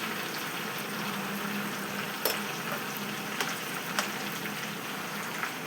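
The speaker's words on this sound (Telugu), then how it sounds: "ఇదిగో ఫిష్ ఫ్రై చేస్తున్నాను." Fish frying in oil with curry leaves gives a soft, steady sizzle and crackle, with a few faint clicks of stirring or turning, fairly quiet and close.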